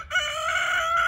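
A rooster crows once in a long, loud, sustained call close by, with no talking over it.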